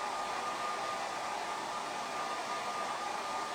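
A hair dryer runs close and steady over a paper Valentine's heart craft, giving off an even, airy roar with a faint motor whine and no pauses.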